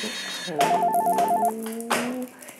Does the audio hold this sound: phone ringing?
yes